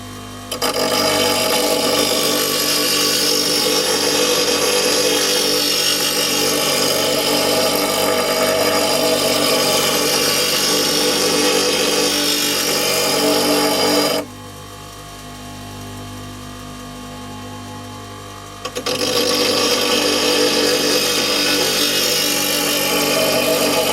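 A twin belt grinder runs loud and steady while a woodturning tool is sharpened on it. The even, close grinding roar drops briefly to a quieter hum midway, then returns at full strength.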